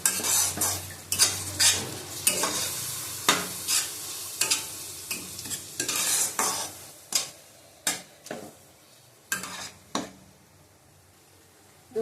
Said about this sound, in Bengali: কাশ্মীরি লঙ্কার গুঁড়ো দিলাম দু চামচ ভালো করে কষিয়ে দেবো আবার